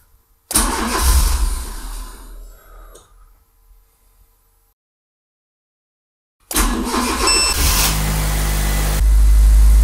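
Fiat Seicento SPI turbo engine running on E85 cranks and catches briefly, then stalls into a few seconds of silence before a second start that settles into a loud, close idle and rising revs.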